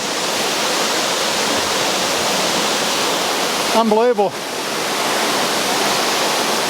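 A waterfall roars steadily and loudly, a dense rushing wash of falling water that fills the whole scene, with a person's voice breaking in briefly partway through.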